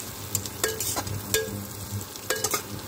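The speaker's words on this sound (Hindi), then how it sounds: "प्याज को थोड़ी देर चलाएंगे।" Onions fry in a pan for a mutton ishtu, stirred with a few distinct scraping strokes over a steady low sizzle, close and fairly quiet.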